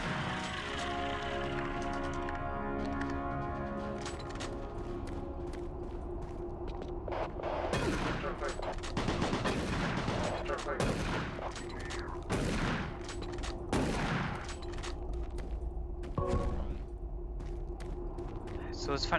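A chain gun fires in Doom 3: BFG Edition, long rapid automatic bursts with heavy booming blasts that come in loud, dense clusters over steady game noise and background music.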